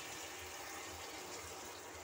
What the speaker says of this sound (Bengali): আর একটু জল দেব মাছটা সেদ্ধ হওয়ার জন্য